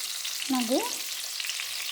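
Steady frying sizzle of stuffed brinjal curry in a pan, with a brief tonal squeak of utensil scraping midway.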